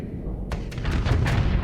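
Sabot weapons firing in the space combat game Starsector: a series of sharp bursts over a deep, rumbling background, several quick launches in close succession, loud and near, with no talk.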